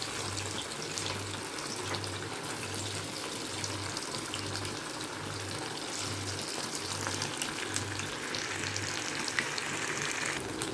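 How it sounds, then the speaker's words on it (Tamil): Marinated chicken fries in oil in a kadai, giving a constant dense sizzle at moderate level. A low rhythmic hum pulses steadily underneath it. "ஆயில் போட்ட கடாயில் இப்போ வந்து சிக்கன் நல்லா வந்து மேரினேட் ஆகிருக்கு எடுத்து அதில் போட்டுக்கலாம்"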